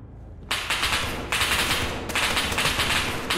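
Automatic gunfire in the video game SCP: 5K: rapid, loud bursts of shots start abruptly after a brief quiet moment and continue in sustained strings, briefly broken by short pauses.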